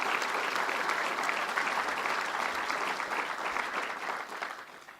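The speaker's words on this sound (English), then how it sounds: "Sam Roberts, let's give him a round of applause." A crowd applauds at a governor's public speaking event in Syracuse, with thick, even clapping that holds steady and then starts to fade toward the end.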